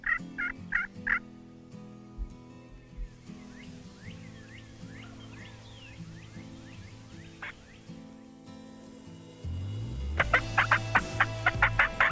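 Wild turkeys gobble around a makeshift hunting blind, with a few sharp bursts close by at the start, fainter distant calls through the middle, and a loud, rapid gobbling run near the end.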